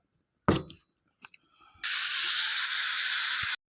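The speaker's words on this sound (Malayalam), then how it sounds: "കടു പൊട്ടിച്ചാലോ." Mustard seeds hit hot oil while making a mango curry: after a sharp clatter and a few small taps, a loud steady hissing splutter rises and runs on for nearly two seconds before stopping abruptly.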